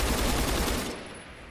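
An RPK machine gun firing in the Roblox game Phantom Forces, a dense rapid burst of close shots lasting about a second before fading into a short tail.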